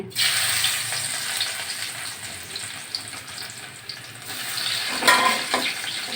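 Chopped garlic dropped into hot white oil in a kadai, frying with a steady close hiss that flares louder near the end as the pan is stirred.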